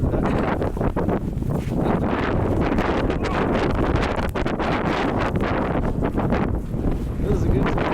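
Strong wind during a snowstorm on a downtown street in Regina, roaring and buffeting the microphone as a steady, loud rush with gusty flutters throughout.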